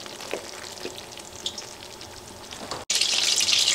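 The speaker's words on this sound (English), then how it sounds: "go ahead and add your tomato paste. Mix that all into your stuff." Tomato paste being stirred into softened potatoes and carrots for chicken afritada, a soft sizzling simmer with scraping stir strokes that jumps to a louder, brighter frying hiss near the end.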